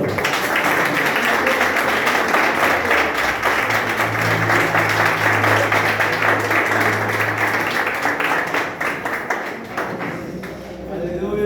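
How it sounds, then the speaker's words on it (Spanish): A church congregation claps and applauds steadily and loudly for about ten seconds, then the clapping tapers off near the end. "Dar un aplauso al Señor"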